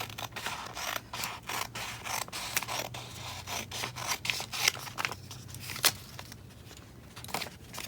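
Scissors snipping strips of washi tape, several close crisp cuts and mechanical clicks in an irregular rhythm against soft rustling of paper and tape, no voices.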